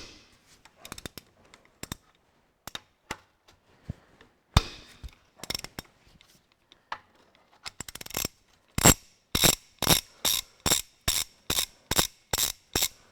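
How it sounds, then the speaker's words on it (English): A ratchet wrench undoing the centre main bearing on a 1954 Ferguson TEA20 tractor crankshaft: scattered clicks and clanks at first, then a loud, regular run of close ratcheting clicks. "And we'll undo this centre main bearing."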